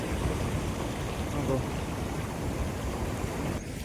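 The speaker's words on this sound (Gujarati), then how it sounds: "આવી હે નદી અમારી" A river flows in steady, broadband rushing that stays loud and unbroken throughout, with no distinct splashes standing out.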